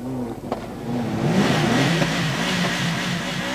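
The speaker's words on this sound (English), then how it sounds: "He powered his way around the last stage, taking 14 seconds off leader Carlos Sainz." A rally car on a Monte Carlo Rally stage revs and accelerates past, the engine note rising and swelling to a loud roar, then sustaining.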